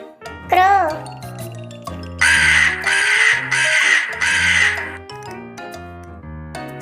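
Four loud, harsh crow caws in steady succession, set over a light musical background with chimes, preceded by a voice.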